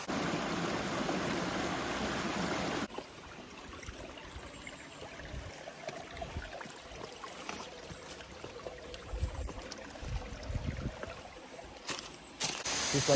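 A waterfall pours with a steady, loud broadband rush for the first few seconds, then drops to a softer, distant wash of flowing water with faint bumps and rustles.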